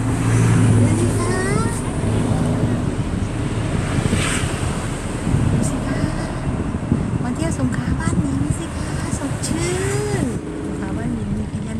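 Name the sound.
morning seaside waves and wind at Laem Samila beach, Songkhla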